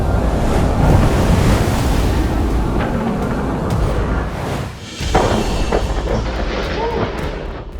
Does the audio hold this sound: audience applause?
no